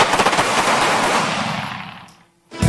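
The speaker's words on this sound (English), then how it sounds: "security agents from a bank in Russia were training in rapid response and precision fire techniques" Rapid gunfire on a bank security team's training range in Russia, a dense, loud burst of quick shots that decays into echoing silence before another sharp report at the end.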